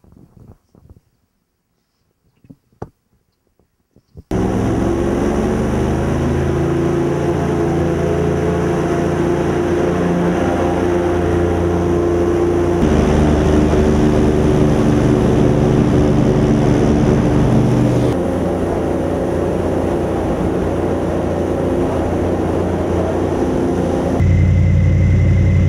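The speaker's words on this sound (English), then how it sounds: "What makes these airboats go is that big propeller behind me." Airboat driven by a big rear propeller running across a cypress swamp on a tour, a loud steady engine and prop roar starting after a few seconds of near silence and continuing without a break, with slight shifts in pitch.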